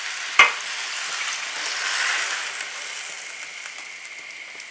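A vegetable mixture fries and sizzles in a pan, with a sharp clink of stirring near the start, then a steady hiss as water is poured in and the cooking continues.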